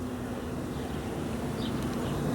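Honeybees buzzing frenziedly around a garden beehive, a dense steady hum with a low drone throughout and an occasional closer bee passing by.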